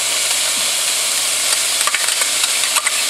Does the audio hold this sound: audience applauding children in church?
no